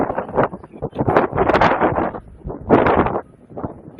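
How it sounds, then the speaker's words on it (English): Strong wind buffeting the microphone at an outdoor high school soccer game, Des Moines Lincoln vs Des Moines North: loud, gusty rumbling that swells and dips continuously. "You can hear how windy it is, right?"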